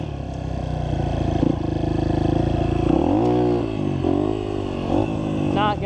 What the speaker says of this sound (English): Let's try first gear.